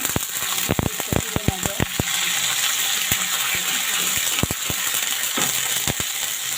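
Water goes into a pan where beef tongue and brain are frying with spices, setting off a loud rush of sizzling and steam with a burst of sharp crackles and pops near the start, then a busy hiss that carries on up close.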